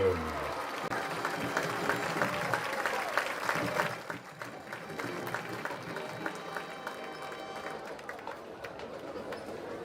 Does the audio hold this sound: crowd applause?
yes